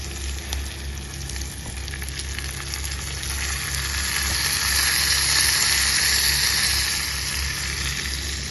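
A tempering of chillies and spices is fried in a pan for pachi pulusu, giving a continuous close sizzle that grows louder midway and then settles slightly, with no voices.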